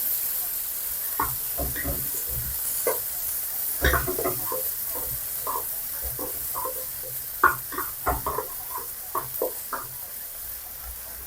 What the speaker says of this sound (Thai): เราจะผัดแหนมให้เขาส่งกลิ่นหอมขึ้นมานะครับ